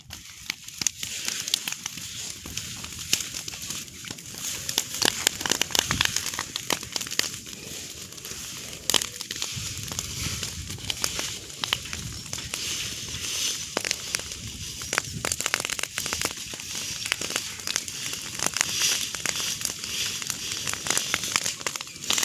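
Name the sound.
fire burning and crackling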